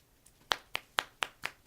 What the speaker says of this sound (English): Snap clapping.